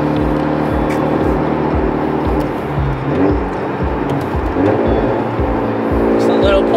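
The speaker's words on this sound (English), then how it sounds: "Just a little pull, here comes the spool." A Hyundai Genesis Coupe with a stuffed turbo pulls under acceleration, engine note rising in repeated surges with turbo spool, loud and close from inside the car, with brief talk over it.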